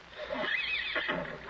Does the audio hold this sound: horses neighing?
yes